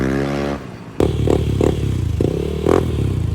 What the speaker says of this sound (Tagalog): Lahat, ayan, umaandar na yung motor.